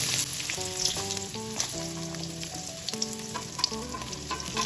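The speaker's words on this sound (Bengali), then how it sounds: "এবার এই তেলের মধ্যে যে সবজিগুলো নিয়েছিলাম সেইগুলো একে একে দিয়ে দিলাম।" Mixed vegetables sizzle steadily in hot oil with cumin as they are stirred, a continuous close crackle under faint background music.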